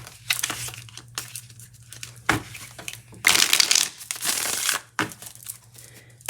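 Tarot cards being shuffled, with bursts of crisp riffling and papery crinkling in separate loud strokes and pauses, close and without talk.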